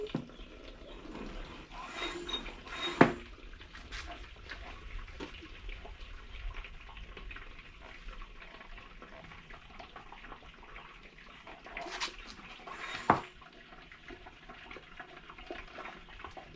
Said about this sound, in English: you just lift this all up and it pours right out